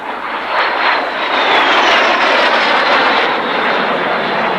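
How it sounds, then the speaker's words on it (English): A two-seater propeller aeroplane drones overhead at an air show, its engine noise swelling and holding steady as it passes at moderate distance. "This aeroplane, a two-seater, gliding this aeroplane through the sky."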